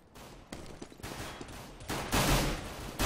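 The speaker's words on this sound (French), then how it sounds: "Ou beau kill de Nier là qui prend un bon headshot." Gunfire in Counter-Strike during a competitive tournament match: dense bursts of shots in rapid succession, loud and continuous, swelling toward the end with no talk over it.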